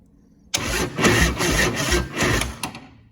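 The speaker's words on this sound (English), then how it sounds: "so that's the starter engagement" A motorcycle starter cranking the engine over through chopper-style wiring: a sudden onset of rhythmic, churning cranking pulses lasting a few seconds, close and fairly loud, with no voices.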